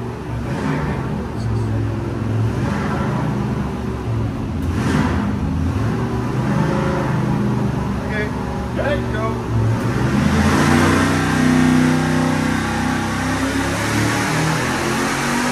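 A 408 small-block Chevy engine on a dyno pull, fitted with a dimpled intake spacer, roars continuously and loudly at sustained high revs, with the pitch climbing toward the end.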